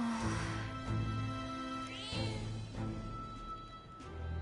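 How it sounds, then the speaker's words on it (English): A cat in the Metaphor ReFantazio video game lets out a few soft, drawn-out meows over a steady game soundtrack, the cries close and moderately loud, with no voices. "The cat tends to himself quietly."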